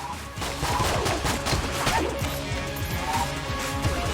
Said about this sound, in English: we're just using our guns to shoot every enemy in the room